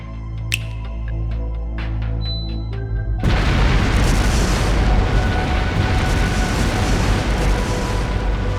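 Explosive artifacts detonate through a palace in the video game Trails Through Daybreak, a sudden loud boom that swells into a sustained roaring rumble. Scattered clicks and ticks come before the blast.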